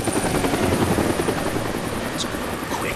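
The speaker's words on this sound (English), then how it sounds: "That's the helicopter chasing my friends." Helicopter chasing in the Deadlight video game, a loud, close, steady rotor thrum with fast rhythmic chopping that fills the whole clip.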